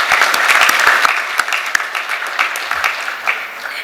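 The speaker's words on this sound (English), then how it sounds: "Let's please give another round of applause for all those who have made this such a very," A conference audience gives a round of applause, loud and dense at first with sharp individual claps standing out, then gradually thinning and fading.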